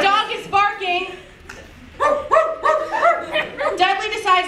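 A person in a Christmas party skit imitates a dog, giving a run of yapping barks and whimpering yips. The calls come loud and close in rhythmic bursts, with a short pause midway.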